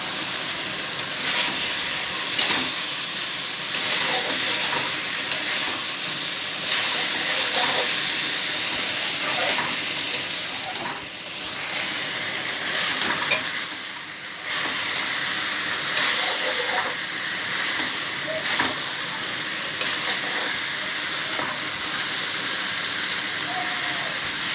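Shrimp and pointed gourd sizzle in a pan, a steady, close frying hiss with small crackles and pops throughout, while a voice speaks faintly at moments.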